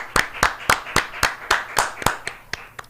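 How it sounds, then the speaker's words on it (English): A single pair of hands claps steadily, about a dozen crisp claps at an even rhythm, close and distinct, then a few quicker lighter ones near the end. "A round of applause for everybody on defense."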